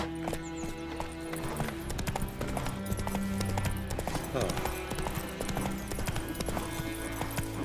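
A horse gallops in The Witcher 3, hooves clip-clopping in quick rhythm under a thick layer of game music, with a voice also present.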